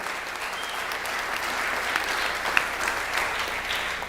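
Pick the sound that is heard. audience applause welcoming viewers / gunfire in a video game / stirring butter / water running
audience applause welcoming viewers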